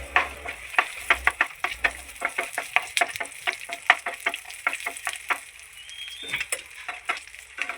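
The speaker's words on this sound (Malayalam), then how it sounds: "അതേ നെയ്യിലേക്ക് തന്നെ കുറച്ച് കാഷ്നട്ട് വറുത്തെടുക്കാം" Cashews, almonds and raisins fry in ghee, stirred with a utensil; sharp, rapid clicks and scrapes ring out over a soft, continuous sizzle, close and alone.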